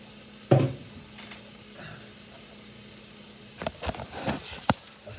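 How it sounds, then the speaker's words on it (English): Garlic sautéing in a pan for cauliflower mac and cheese makes a soft, low sizzle, broken by a sharp clatter near the start and a few utensil clicks and scrapes later on. "saute this garlic."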